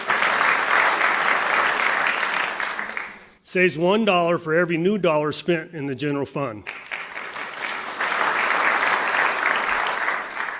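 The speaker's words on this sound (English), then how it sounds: "Yeah, you can clap." Loud, sustained audience applause fills a State of the State address, breaking off while a speaker talks and then swelling again into steady clapping.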